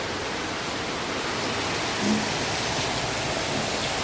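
Steady monsoon rain pours down close by, a dense, even hiss of drops on the ground with no breaks and no talking.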